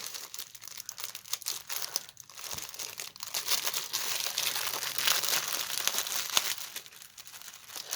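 Plastic wrapping on a pre-stamped cross stitch kit crinkles and crackles steadily at close range, with a few sharper crunches and brief tearing noises, no voices over it.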